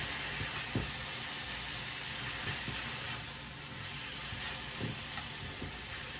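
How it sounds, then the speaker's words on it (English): Steak pieces searing in a hot pan while being stirred, a steady close sizzle and hiss with a few soft scrapes and clinks of the utensil, no talking. "it's searing up nice. Just going to go and give it a stir"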